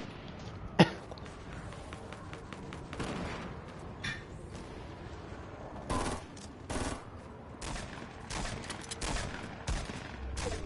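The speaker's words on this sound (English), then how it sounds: "People trying to shoot that thing down." Bursts of gunfire in a Fortnite 50 vs 50 match as players shoot at an object, several sharp bursts and rapid volleys scattered across the stretch, one loud crack early on, mid-distance with no talk.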